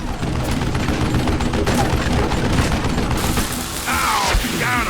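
In the Western shooter Call of Juarez: Gunslinger, a dense volley of loud gunshots fires for about three seconds, then gives way to rattling mechanical clicks and a lone whistling tone.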